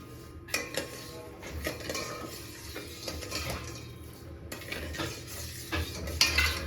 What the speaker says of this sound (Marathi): पाक असा ढवळूया आपण. सो आपला एकीकडे पाक, साखरेचा पाक तयार होईल.